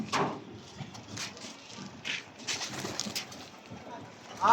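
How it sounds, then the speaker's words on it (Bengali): Madrasi pigeons at a pigeon sale in Chakdaha, Nadia coo softly in short bursts, mixed with wing flutters and scuffling. People talk nearby. "পায়রাগুলো কিভাবে নামবে"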